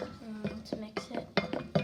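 A utensil stirring thick bubble tea tapioca mixture in a pot, with a series of soft clinks and scrapes against the pot at an irregular rhythm, close and fairly quiet.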